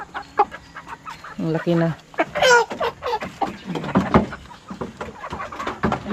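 Young chicks cheeping and clucking nearby in a backyard, short bursts of chirps and clucks mixed with a person talking over them.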